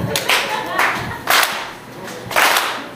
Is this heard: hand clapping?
yes